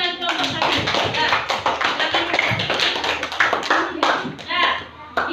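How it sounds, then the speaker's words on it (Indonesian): Classroom applause for a group representative during a primary-school science lesson on speed: a dense patter of many hands clapping close by, steady for about five seconds, with children's voices mixed in. "Beri tepuk tangan dulu untuk perwakilan kelompok 1."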